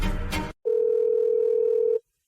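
A telephone tone heard over a handset on a call to a number that is unavailable: a single steady pure tone, loud and close, lasting about a second and a half after a brief burst of other sound.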